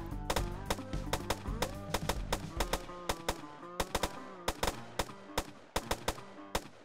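Shooter video game gunfire: rapid bursts and single sharp shots crack out in irregular clusters over a low background hum, loud and close.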